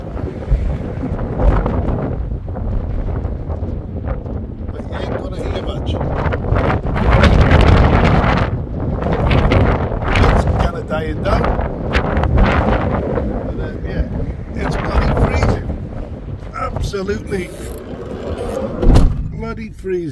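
Strong high winds buffet a camper van and batter the microphone, producing loud, continuous roaring gusts close up, with a person talking throughout.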